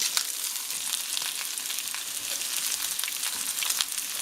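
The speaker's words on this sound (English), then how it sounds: "we're going to brown the sausage and the onion" One pound of ground Italian sausage browns with onion in a pan over medium heat, producing a steady, dense sizzle with faint crackles and no voices.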